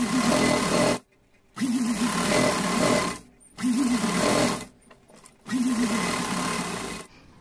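An electric sewing machine stitches three sides of fabric for a small Laddu Gopal dress, running in four close, loud bursts of rapid whirring with short pauses between them.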